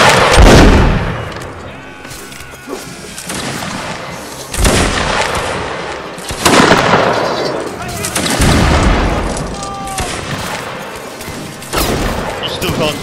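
Musket volleys in Mount&Blade Warband Napoleonic Wars during a long fort-holding firefight: loud crackling volleys of many muskets fire roughly every few seconds, ringing out with rumbling echoes, with voices chatting between them.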